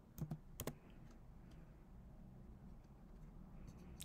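Quick keystrokes on a computer keyboard, a short burst of clicks near the start followed by a few fainter taps over a low room hum, with no talking.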